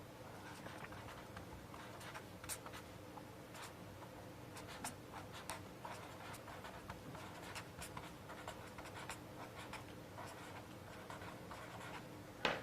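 A pen or chalk scratches out an equation by hand during an engineering lecture on fault diagnostics, with a continuous series of quiet, quick ticking strokes and taps and no talking.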